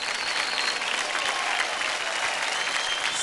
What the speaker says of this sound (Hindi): कम ऑन गाइस, जोरदार तालियां हो जाए सदविन के लिए।